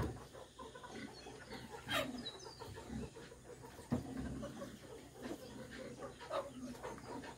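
A rooster crows among clucking fowl in a busy farmyard, with several calls rising over constant background chatter of birds and animal noise, moderately near.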